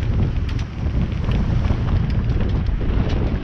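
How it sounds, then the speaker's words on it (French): Wind at sea aboard a KELT 760 sailboat sailing solo, close-hauled and heeling, roaring loudly and steadily across the microphone in a dense, buffeting rush with occasional sharper gusts. "Il y a pas mal de vent."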